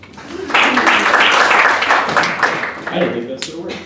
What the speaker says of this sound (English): You can keep clapping.